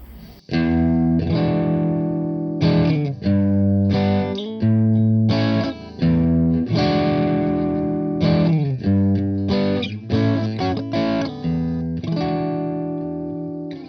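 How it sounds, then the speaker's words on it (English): Electric guitar played through a NUX Steel Singer overdrive pedal with all knobs at noon, strummed chords and single notes ringing with a warm, creamy gain, clear and close, decaying at the end. "And now I'm going to turn on the NUX Steel Singer."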